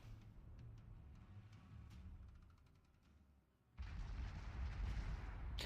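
A heavy cruiser's guns fire high-explosive shells in World of Warships, a sudden loud boom and sustained roar after quieter muffled rumbling, with no voices.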